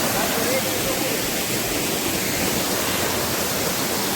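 Shivdav waterfall pours in a dense, unbroken roar of falling water that stays loud and even throughout, filling the whole scene with no pauses.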